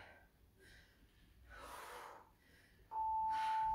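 After a HIIT workout, heavy breathing comes as faint, slow, breathy exhales and inhales, each a soft rush of air with pauses between them.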